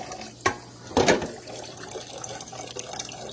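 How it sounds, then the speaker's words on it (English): Water poured over rice to rinse it, giving two short splashing bursts close by, the second fuller and longer, followed by a low trickle and faint drips. "When I pour my rice, I'm gonna rinse it out a couple times."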